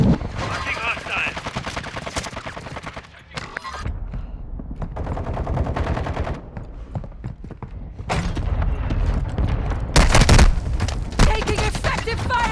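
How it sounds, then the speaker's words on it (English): Gunfire in the Warzone Resurgence video game, dense bursts of automatic fire and sharp single shots, loud and close, mixed with game voice chatter. "Taking effective fire."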